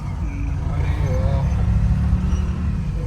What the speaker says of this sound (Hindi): ट्रैफिक की मारामारी बहुत ज्यादा है।